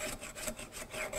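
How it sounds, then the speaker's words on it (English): A hand tool skims a thin shaving off the wood surface of a housing dado joint, producing a few quick, soft scraping strokes in a short rhythmic series, close and quiet. "And I'm skimming off a thousandth off the surface there."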